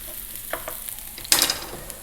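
Onion and garlic hitting hot sunflower oil in a small pan over medium heat give a soft sizzle that swells into a loud, crackling burst partway through, with a few stirring taps.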